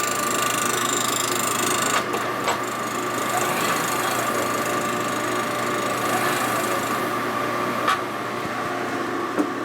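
Welding passes on a broken inner primary of a Harley-Davidson Shovelhead FX kickstart, a steady close crackling buzz that runs throughout with a few brief sharper pops.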